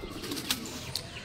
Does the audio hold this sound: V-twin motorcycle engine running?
no